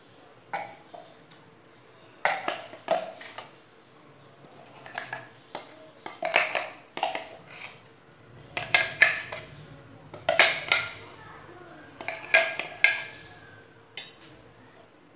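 Thick ground masoor lentil batter being moved into another cooking pot, with a series of metallic clinks and scrapes of utensils against the pots coming in irregular bursts, close and moderately loud, with no talking.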